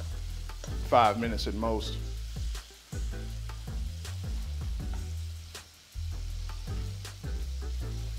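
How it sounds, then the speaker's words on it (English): Shrimp sizzle in a hot pan for shrimp and grits, a steady crackling fry heard up close with a voice talking over it. "As the shrimp begin to cook and get done, you'll see that their tails will turn pink"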